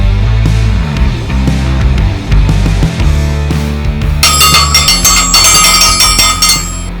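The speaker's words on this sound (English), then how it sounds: "that bell means it's time for the crew to hit the road once again." A bell rings loudly and repeatedly with bright metallic clangs over a low rumbling background, during a Willys jeep trip along the Oregon Trail.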